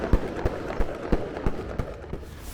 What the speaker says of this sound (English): We have the cannon fire off of the Bradley tanks, which are huge rounds.